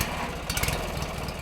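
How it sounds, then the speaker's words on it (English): A lawn mower engine drones steadily while mowing an old family property in Ferndale, a continuous mid-pitched hum with slight rattling pulses, moderately distant, with no voices. "Steve Jensen's mowing the same Ferndale property his family settled on."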